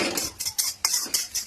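A metal spatula bangs on a pan while street-style fried rice is cooked, giving about six sharp, ringing clanks in quick, uneven rhythm, close and loud with no talk.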